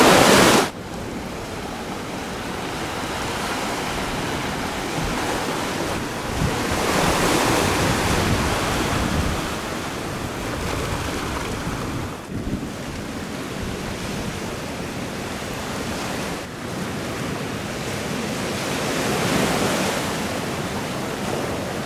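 Ocean waves wash onto a beach in southern Bali, a loud continuous roar of surf with swelling and receding rushes, mixed with some wind noise.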